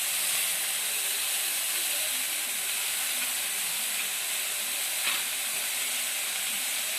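A pot of curry boiling and simmering gives a steady, close hiss with faint bubbling, running evenly throughout with one small pop near the end and no talk.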